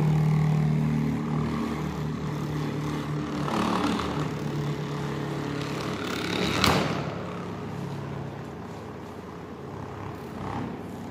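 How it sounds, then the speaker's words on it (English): BLDC motor running on a DC controller, a steady mechanical whir with a tonal hum that shifts in pitch, plus a sharp brief burst of noise midway and no talking. "Now I am going to run the motor with the"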